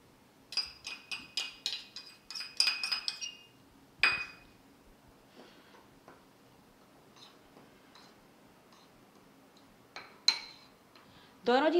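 A spoon clinks against a bowl while mixing milk powder and cornflour, a quick run of bright metallic taps at first, then scattered isolated clinks with quiet gaps between.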